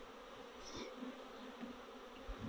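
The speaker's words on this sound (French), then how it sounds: "on va remettre un essaim qu'on a attrapé il y a quelques jours d'une de nos ruches" A honeybee swarm hums at a hive in a faint, steady drone, with single bees buzzing close past and no voices.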